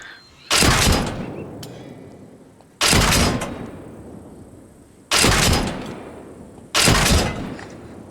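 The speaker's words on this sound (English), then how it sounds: "There's 3 shots to the armored vehicle, and it is not doing anything to the troops inside at all." Four loud, heavy cannon blasts as HE rounds are fired at an armored vehicle in Arma Reforger, each sharp boom trailing off into a decaying rumble, spaced a couple of seconds apart.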